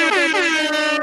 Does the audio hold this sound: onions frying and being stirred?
no